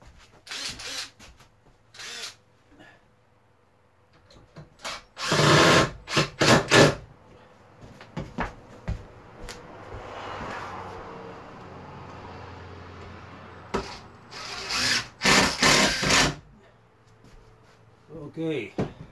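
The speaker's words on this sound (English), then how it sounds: "Just gonna fasten the screws." A power drill runs in short bursts while fastening screws during the setup of a camp shelter prototype, with whirring spurts between clicks, handling knocks and someone talking in between.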